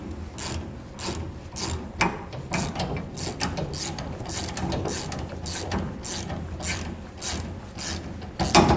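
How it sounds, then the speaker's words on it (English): A wrench ratchets a nut tight on a leaf spring enhancement kit for a 2015 Chevrolet, with steady rapid clicking in short repeated bursts, close and clear with no talking. "All right, so now we can tighten it up with our wrenches."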